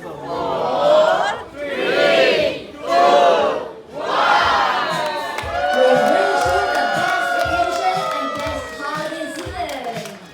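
On board a cruise ship, a large crowd gathered for a cake cutting by the captain cheers and shouts in loud surging waves. Steady rhythmic clapping rises under the voices in the second half.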